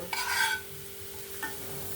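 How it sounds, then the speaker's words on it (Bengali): Chopped onion fried in oil until reddish brown for a flat bean bharta: one close scraping stir over a faint sizzle, then a quieter hiss and a second short stir. "পেঁয়াজটা আমার সুন্দর লাল লাল করে একদম ভাজা হয়ে গেছে"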